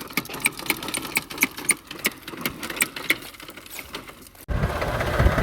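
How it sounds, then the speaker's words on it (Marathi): A hand air pump inflates a tractor tyre on a farm plot. Rapid, regular mechanical pumping strokes beat close by for about four seconds, followed by a steady rushing hiss of air. No one talks. "पंपानं हवा मारणार आहे."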